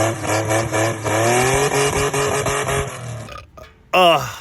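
A Ford Mustang V6 revs hard and close in a loud, steady, strained drone for about three seconds, then drops off, pauses and barks back in a short sharp blip of throttle at the end.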